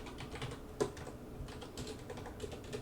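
Quiet typing on a computer keyboard while coding a Roblox script: soft, irregular key clicks with one sharper tap, heard close over a low room hum.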